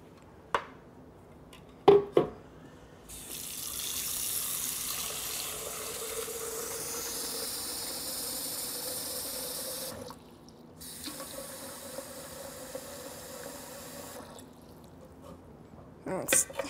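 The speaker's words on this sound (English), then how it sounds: "I'm going to put the water straight into the blender here." Tap water runs from a kitchen sink faucet into a blender jug in a steady, moderately loud stream for several seconds, stopping briefly and then starting again, with a few sharp handling knocks at either end.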